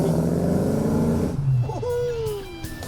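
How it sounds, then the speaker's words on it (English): A Chevrolet Malibu Chevelle with a 5.7-liter, 300-horsepower V8 rumbles loudly up close, its low engine note rising and falling over about a second before fading, followed by other faint background sounds. "Malibu Chevelle"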